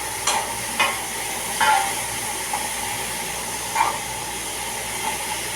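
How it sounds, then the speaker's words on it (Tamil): Mushrooms being stir-fried in a pepper masala, with a steady low sizzle and a few sharp scraping stirs of the spoon against the pan at irregular intervals, close by and with no voices. "மசாலையில் நல்லா பரட்டி விட்டுருங்க"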